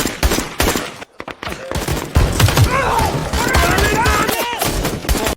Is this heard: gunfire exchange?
yes